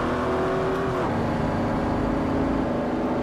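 A Celica GT-Four revving steadily in the video game Forza Motorsport 4, a close continuous engine drone with a slight pitch drop around the gear change, then holding steady, with no talk.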